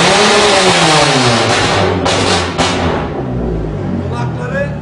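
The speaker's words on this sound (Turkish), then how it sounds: "Kulakları, bak, kulakları kaşındıran bir tip bir egzozu var." A Peugeot 306 engine revs loudly with a rough, raspy exhaust, rising and falling in pitch over a steady mechanical roar.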